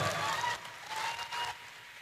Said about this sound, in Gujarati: વધાવો તાળીઓના ગગડાટ